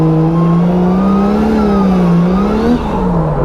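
A drift car does a burnout on brand-new tires in a burnout box, its engine held at a loud, sustained high rev with the pitch wavering up and down over a steady roaring hiss, close and continuous throughout.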